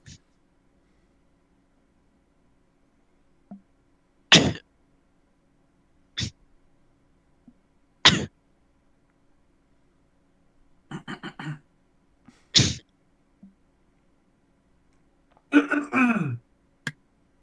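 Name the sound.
coughing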